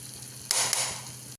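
Banana halwa is stirred in a pan, producing a brief, close scrape with a soft sizzle that rises suddenly and then tapers off.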